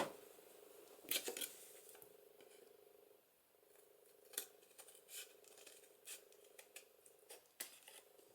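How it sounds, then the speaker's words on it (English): Scissors snip through paper in a few quick cuts, with short crisp bursts spread across the clip against a quiet room hum. "So I'm going to use my scissors."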